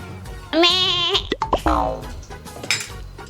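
A voice imitates a goat with a wavering, quavering bleat, followed by a second shorter bleat amid a few clicks and small noises.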